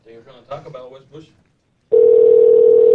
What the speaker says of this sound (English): All right, it's ringing now.